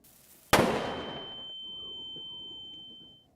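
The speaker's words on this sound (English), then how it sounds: "Little flashbang spell." A flashbang spell called Sparkless cast in the Spellborne game: one sudden loud bang that decays over about a second, followed by a high steady ringing tone that fades out.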